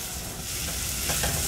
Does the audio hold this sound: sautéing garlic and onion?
yes